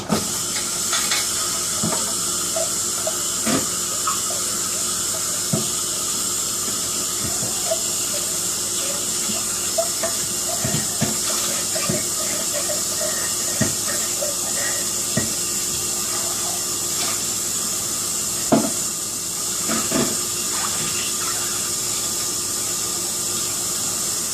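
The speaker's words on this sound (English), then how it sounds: "So I'm going to clean out my starter jar." Tap water runs steadily while a sourdough starter jar is rinsed out, a continuous close hiss broken by small clinks and knocks of glass against the sink.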